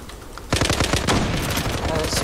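Rapid automatic gunfire in the video game Zula, a dense run of close, loud shots starting abruptly and continuing without pause, with some voice sounds mixed in.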